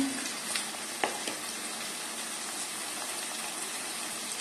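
Eggplant and pumpkin pieces sizzling in hot oil with curry leaves in a pan for sambar, a steady broad frying hiss with a few soft clatters near the start, close and continuous.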